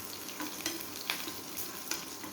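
Chopped small onions sizzle and crackle steadily in a hot pan for a Kerala mango pulissery, with a spoon stirring through them and a few brief scraping clatters rising above the even frying hiss.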